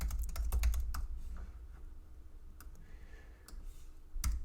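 Computer keyboard keys clatter in a quick burst of typing, then sparse single clicks follow after a pause, ending with another short flurry of keystrokes, close and fairly clear with no talk.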